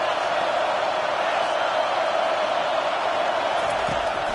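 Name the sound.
stadium crowd noise at American football game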